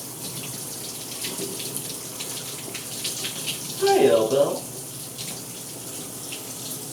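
Water runs steadily from a bathroom tap, a continuous hiss throughout, briefly overlaid by a louder splash, while a person talks over it.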